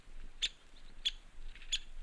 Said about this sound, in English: Right now we're just hearing chirps.